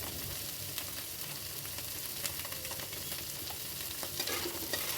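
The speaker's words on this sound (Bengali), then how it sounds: "এটাকে কিন্তু প্রায় 5 মিনিটের মতো আপনাদেরকে নাড়তে হবে, আর মাঝখানে থামলে চলবে না" A ridge gourd mixture for a stuffed kankrol dish stirred without pause in a pan, a constant close sizzle with scraping stir strokes and light clinks throughout.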